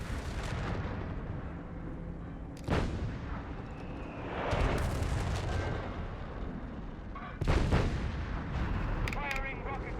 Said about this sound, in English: Firing rocket barrage.